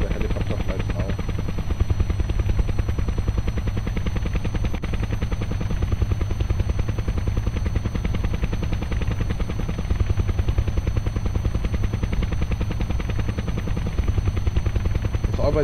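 A helicopter flying in Kerbal Space Program, a loud, steady rotor chop that pulses rapidly and evenly throughout, with a voice speaking over it.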